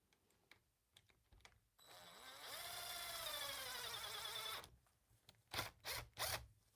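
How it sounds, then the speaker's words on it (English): A power screwdriver drives screws into the motor mount of an Arrma Kraton or Outcast 8s RC car, a steady whir of about three seconds that climbs in pitch, followed by a few short clicks and bursts. "Then I can put the rest of the screws in afterwards."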